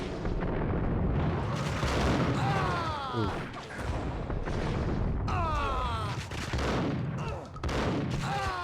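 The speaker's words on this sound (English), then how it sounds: "He threw a grenade at me." Grenade blast in Max Payne amid a loud action scene, heavy booming and crackling bursts layered with gunfire and whistling effects, sustained and dense from start to finish.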